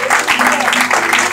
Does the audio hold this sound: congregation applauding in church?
yes